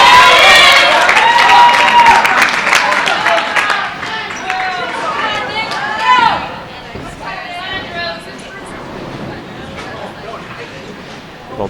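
Spectators at a bowling match cheer and shout loudly at first, with excited voices and clapping in a busy hall. The crowd noise gradually settles into lower chatter and scattered calls.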